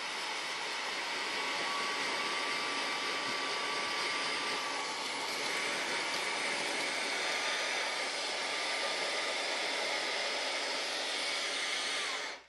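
A Fanttik cordless handheld car vacuum runs continuously at close range, giving a steady, loud airy whine with a rushing suction hiss that holds level for the whole stretch before cutting off at the very end. No one speaks over it.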